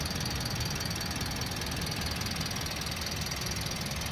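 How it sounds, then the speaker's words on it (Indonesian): The manual engine of a 2022 Toyota Avanza idles at a steady, even rhythm, a continuous close hum with a faint high whine and no voices over it. "di irama mesin teman-teman bisa dengar sendiri ya"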